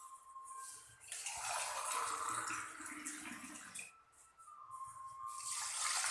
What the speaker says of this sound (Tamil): நான் ஒரு சொம்பு தண்ணி ஊற்றிக்கிட்டேன்